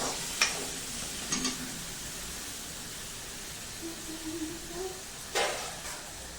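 Peas and tomato frying in spiced oil are stirred with a spoon, a soft steady sizzle broken by a few scraping knocks against the pan.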